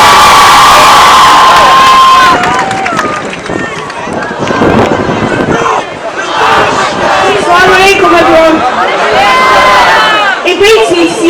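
A loud outdoor crowd at a Palestine solidarity rally at Manchester Piccadilly cheers, whoops and shouts continuously, with wind buffeting the microphone and a strong tone at the very start.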